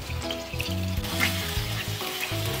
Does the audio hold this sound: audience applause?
no